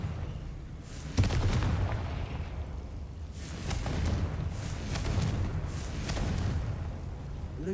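Fiery Confringo spell blasts go off in the game Hogwarts Legacy, a sharp impact burst followed by rolling, rumbling explosions that swell and fade repeatedly amid steady combat noise.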